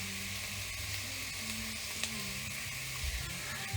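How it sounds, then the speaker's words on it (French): Onions cooking in a pan for a coquillettes risotto with ham and Comté, a continuous soft hiss of frying held at an even level, with a faint tap or two of a utensil and no one speaking. "Alors regardez, là on fait cuire les oignons"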